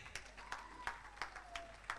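At a children's talent show, hands clap in a slow, regular beat, roughly three claps a second, faint and distant over a low hum, with a softer crowd murmur beneath.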